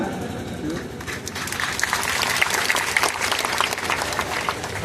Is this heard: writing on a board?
no